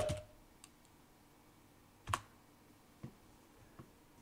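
A few sparse keystrokes on a computer keyboard while entering a receiver configuration command, isolated soft clicks spaced about a second apart in a quiet room.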